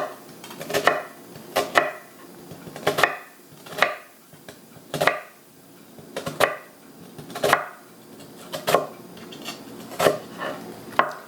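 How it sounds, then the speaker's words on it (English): A knife dices half a white onion on a cutting board, with about a dozen crisp, close chops in a steady rhythm. "First I'm going to dice 1/2 white onion"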